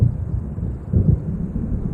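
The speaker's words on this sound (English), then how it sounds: "It seems there's a storm coming." A storm gathering over dark water in Alan Wake Remastered: a low rumble of distant thunder and blustery wind, with a heavier roll swelling midway and then fading back, and no voices.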